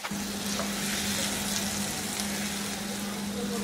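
Garam masala powder frying in a pan and being stirred, a steady close hiss of sizzling oil with a constant low hum running under it throughout, no voices.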